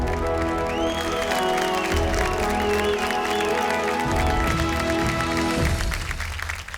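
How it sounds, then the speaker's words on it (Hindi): An audience at a glamorous awards evening gives a sustained round of clapping to welcome a guest onto the stage, steady and full over music playing beneath it throughout. "जोरदार तालियों से स्वागत कीजिए"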